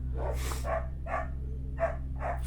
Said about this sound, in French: Je suis désolée, vous entendez les chiens